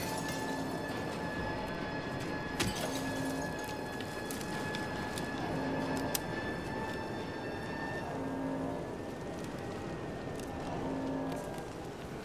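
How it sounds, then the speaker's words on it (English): The ghost train in the PC game Silent Hill 2 gives a continuous low rumble with sustained droning tones and soft rhythmic pulses, moderately loud and unbroken throughout. "Well, the ghost train."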